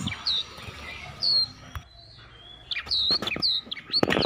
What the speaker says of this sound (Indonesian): burung kacer Sumatera. Kicauannya yang sangat indah dan mengagumkan.